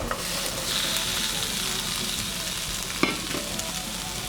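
Celery, peppers and mushrooms stir-frying in a pan for a vegan stir fry, a continuous loud sizzle with a sharp utensil clack near the end and no talking.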